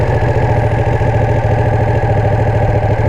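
A Ducati Panigale 959 L-twin motorcycle engine idles loud and close, with a steady, even throbbing pulse that holds throughout with no speech.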